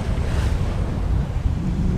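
Ocean surf rolls and crashes against the southern shore of Bantayan Island in the Philippines, a loud, continuous wash of water mixed with heavy wind buffeting close by.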